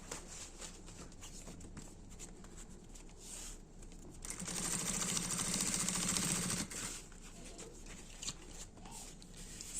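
Sewing machine stitching a bag lining at stitch length 4.5, a steady loud mechanical run of about two seconds in the middle, with quieter intermittent handling noise before and after.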